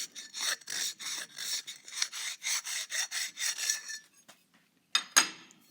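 A hand file with a curved round profile rasps on steel while shaping tubing for lower four-link arms, about a dozen rhythmic close strokes, then a pause and two final scrapes.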